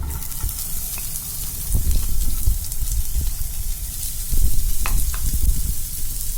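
Onion hits a hot pan of chicken and vegetable dim sum filling and sizzles loudly and steadily, with bursts of stirring and scraping on top and no talk.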